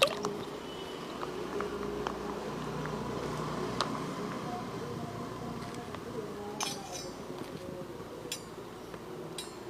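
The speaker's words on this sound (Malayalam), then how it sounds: "മിക്സ് ചെയ്യാൻ പോവാണ് എല്ലാം കൂടെ ഒന്ന് ഞെരടിയിട്ട്" Lentil vada batter is mixed and squeezed by hand with onion, ginger, green chilli, curry leaves and dried red chilli, making soft wet squelches with an occasional faint clink nearby, all fairly quiet.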